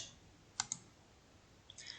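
Two faint, quick computer mouse clicks in a quiet room, followed by a few softer clicks near the end, with no talking.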